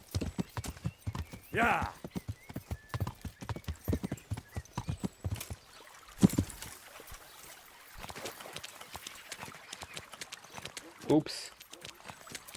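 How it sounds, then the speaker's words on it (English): Horse hooves clip-clopping in a medieval open-world game set in Bohemia, a run of sharp close hoof strikes with short pauses, under and between brief spoken remarks from a player. "The horsey, unfortunately, cannot climb very well."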